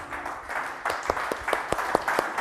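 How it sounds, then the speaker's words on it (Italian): Audience applause at a Miss Italia regional selection pageant for Miss Telefriuli, a steady wash of clapping with a few sharper, louder claps standing out near the end. "Vai, un applauso anche per Sdrindule."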